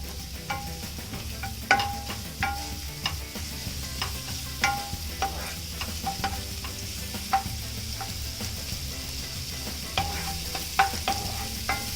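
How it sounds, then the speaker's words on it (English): Onions sauté gently in a pan for a vegetable quiche filling, giving a steady soft sizzle broken by frequent light clicks and scrapes of a utensil against the pan. "Just slightly saute the onions."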